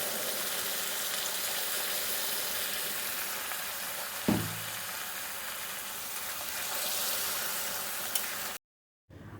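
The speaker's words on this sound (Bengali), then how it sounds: "দিয়ে দেবো খুব সামান্য জল, আর একটু আলুগুলো সেদ্ধ হবে।" Potatoes cooking in a pan with a little added water give a steady, soft sizzle and hiss, broken by one brief clink partway through and then a sudden cut to silence near the end.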